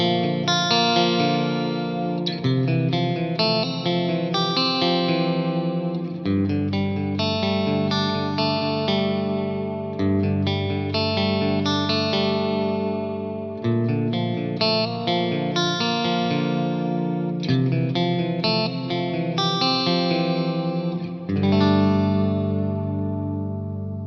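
Distorted electric guitar tone from a Ganymede amp model on an HX1, run in a stereo effects loop and played through miked speakers, with loud sustained chords and rhythmic strummed phrases continuing steadily without pause.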